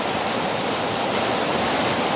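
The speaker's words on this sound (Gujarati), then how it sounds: "ઘોઘવતા પાણીનો અવાજ." Roaring, rushing river water pours steadily over a small waterfall, a dense unbroken wash of sound close by with no voices.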